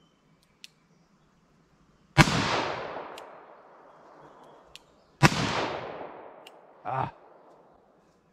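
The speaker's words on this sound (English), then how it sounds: "I want to shoot some more at this distance." Two sharp, loud gunshots from a .44 Special firearm ring out a few seconds apart at a shooting range, each with a long reverberant decay, followed by a brief metallic clink and a short exclamation.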